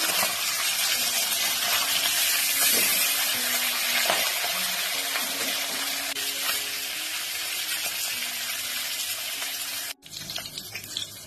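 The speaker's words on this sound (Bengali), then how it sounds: "রুই মাছটা আমি উল্টে দিচ্ছি।" Rohu fish pieces fry in hot oil after being flipped. A dense, steady hiss of sizzling fills the pan for about ten seconds before a brief break and a rougher spatter.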